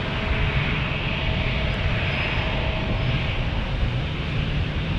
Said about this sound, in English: Alaska, it looks like on an E-175 is departing next